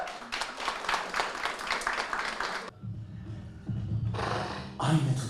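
An audience at a hipodrom.com brand event gives steady, dense applause as a general manager walks on stage. The clapping then cuts off and gives way to a quieter, different background sound.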